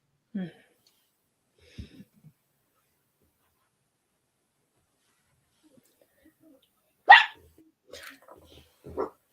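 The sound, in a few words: dog barking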